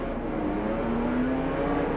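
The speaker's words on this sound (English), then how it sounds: "Goes up through the gears on the restart." A NASCAR Busch Grand National stock car accelerates on a race restart at the 1992 Mountain Dew 500, its engine droning steadily and climbing in pitch through the gears, heard at moderate distance without talk.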